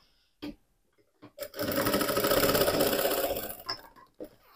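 A sewing machine stitches back and forth along the same seam while a cute teddy-bear backpack is being made, running in one steady, loud burst of rapid stitching after a few short taps, then stopping.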